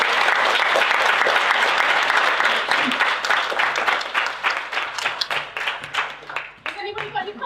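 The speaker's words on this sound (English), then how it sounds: "Round of applause for our panel." Audience at a student congress applauding a panel, dense sustained clapping from a crowd that thins into scattered individual claps toward the end.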